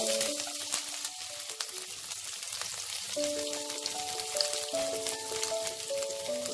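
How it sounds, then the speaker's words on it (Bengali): Chopped garlic sizzles in a pan of reduced-heat oil, a steady crackling hiss that stays near and even, with music playing throughout and no talking. "তেলটা কিছুটা কমিয়ে নিয়ে এবার আমি এতে প্রথমে একটু রসুন কুচি দেব।"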